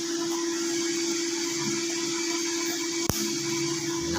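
A Sanwa welding machine welds a steel pillar with a steady, loud continuous buzz and hiss, broken by one sharp crack near the end.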